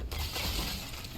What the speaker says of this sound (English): you just have to shatter everything in here